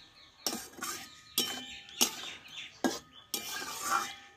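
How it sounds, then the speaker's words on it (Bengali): Spoon scraping and knocking in a cooking pot of vegetable curry with potatoes, five or six distinct stirring strokes with metallic clinks, close and clear, no talk. "দিয়ে নাড়াচাড়া করে নেব একটু, দিয়ে আমি কিছুক্ষণ রান্না করে নেব।"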